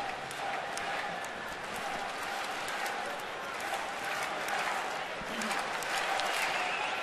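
Boisterous crowd at a 2012 Braves at Nationals baseball game in the sixth inning, a steady, fairly faint wash of cheering and noise, with no clear bursts.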